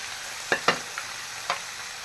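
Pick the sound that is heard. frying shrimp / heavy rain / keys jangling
frying shrimp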